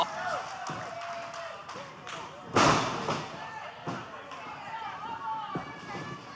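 A heavy thud as a wrestler is driven back-first onto the mat with a spinebuster during a live televised wrestling show, one sharp impact amid crowd noise and commentary.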